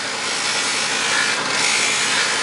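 A file works the burr off the top of a 1911 pistol magazine follower held at a right angle, giving a close, steady abrasive scraping that runs continuously without pause.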